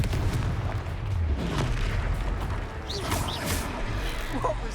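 In Hogwarts Legacy, the Confringo blasting spell erupts amid a noisy battle, with layered booms and crackling impacts over a constant din of combat effects.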